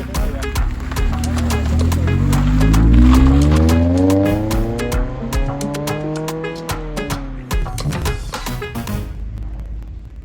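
Several Mazda Miatas pulling away one after another on a road, engines revving up through rising, falling gear changes, loud and close at first, then thinning out with some clicks and rustle nearby.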